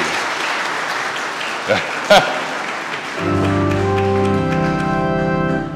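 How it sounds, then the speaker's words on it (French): A gathered crowd applauds a man named Christian on the eve of his 65th birthday, and a loud shout cuts through midway. After about three seconds the clapping gives way to music with sung voices. "On peut applaudir."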